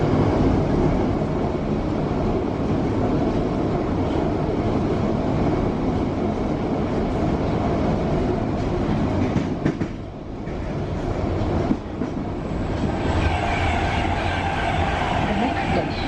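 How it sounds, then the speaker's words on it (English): Old London Underground stock running toward Harrow and Wealdstone, lurching from side to side, with a loud continuous rumble and rattle from close inside the carriage. "these trains are not a bit comfortable. They're lurching from side to side, really old London Underground stock"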